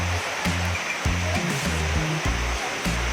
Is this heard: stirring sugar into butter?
no